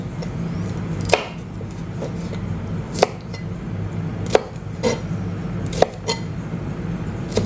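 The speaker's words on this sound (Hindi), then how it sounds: "अब इसको भी जो है ना वो क्यूब्स में काट लूँगा।" A knife chops a deseeded vegetable into cubes on a board for chicken tandoori shashlik: about seven sharp, separate chops spaced roughly a second apart, over a steady low kitchen hum, with no talking.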